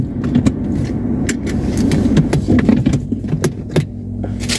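Car keys jangle and clink in a series of short, bright metallic rattles close by, over a low hum of background noise.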